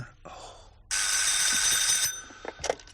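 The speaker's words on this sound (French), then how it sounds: "Yves, le téléphone." A telephone bell rings in one sustained, loud electric trill for about a second indoors, followed by brief movement and a voice.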